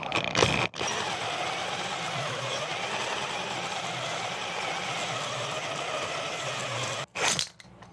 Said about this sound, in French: Je rentre mon rodoir à l'intérieur.